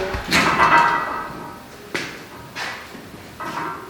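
The door of an alkaline hydrolysis machine at a funeral home swings shut with a heavy scraping clunk, followed by a few lighter metallic knocks and taps close by.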